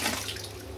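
Hot water pours over a tin lid and into a home-brew kit tin, a short steady watery rush splashing against metal, close and fairly quiet.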